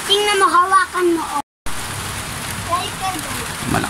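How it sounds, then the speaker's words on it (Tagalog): Heavy rain falls steadily as broadband hiss, with a person talking over it during the first part and a brief dropout in the middle. "Malakas na yung ulan."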